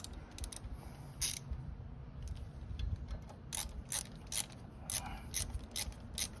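Ratchet wrench working bolts on the footpegs of a Honda C125 Super Cub, a series of short quiet clicking bursts repeating unevenly over a low background hum, close by with no talking.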